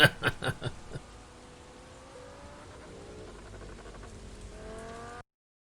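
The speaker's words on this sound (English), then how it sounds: "Lamborghini, I could hear it." A few sharp thuds open the clip, then a Lamborghini engine in Euro Truck Simulator 2 hums past with a rising whine that fades and cuts off abruptly.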